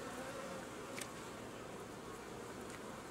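Honey bees buzz continuously around an open hive during an inspection, a soft, even drone of many insects close by with an occasional louder bee passing near.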